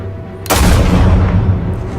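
A single loud gunshot in the Batman Telltale game, a sharp blast about halfway through followed by a rumbling, decaying boom.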